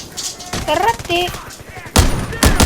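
Sniper rifle shots in a video game crack out as two sharp, loud blasts near the end, preceded by a rising synthetic tone and a faint background voice.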